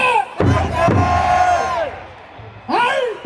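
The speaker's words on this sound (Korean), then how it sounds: "다시 한번 알포드 하면 큰 소리로 파이팅 알포드" A KT Wiz baseball crowd shouts a loud chant in unison, a long sustained cry that fades, then a fresh burst of voices after a short pause.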